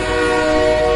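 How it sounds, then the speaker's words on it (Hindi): Train approaching on railway tracks, a loud sustained horn blast with a steady harmonic tone over a low rumble, close and unbroken for the whole moment. "ओह, रेलगाड़ी आ रही है।"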